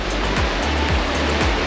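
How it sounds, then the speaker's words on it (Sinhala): Devil's Punchbowl waterfall at Arthur's Pass, swollen after heavy rain, roars as a steady, loud, close rush of falling water, broad and unbroken with no voices. "මේක මේ Devil's Punchbowl කියන waterfall එක"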